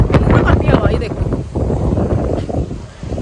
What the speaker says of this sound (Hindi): सो चल देख सकते हैं कितनी गंदी वाली हवा चल रही है।